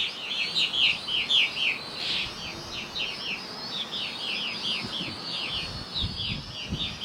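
Small birds chirp and tweet in quick, repeated bursts while mobbing a Holy Stone HS200 toy drone flying nearby, the calls fairly loud and continuous over a faint outdoor background.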